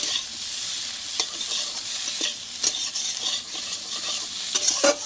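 Boal fish frying with taro, potato, ginger and cumin in a pan, with a loud, steady sizzle broken by scraping stirs and occasional knocks of the utensil against the pan.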